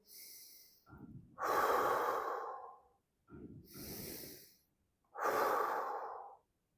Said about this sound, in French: je prends une inspiration profonde